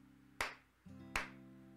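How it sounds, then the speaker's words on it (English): Two sharp hand claps ring out about a second apart, close and crisp, against a quiet background with a low steady hum underneath. "Can I make some clap sounds?"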